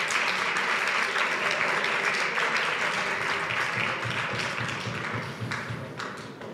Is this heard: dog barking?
no